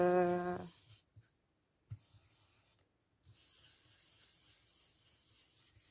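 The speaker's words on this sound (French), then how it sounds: "Donc, je frotte. Je passe par-dessus aussi." An ink pad is rubbed over mixed media paper, giving a faint, close, scratchy brushing texture after a brief tonal sound and a couple of silent gaps.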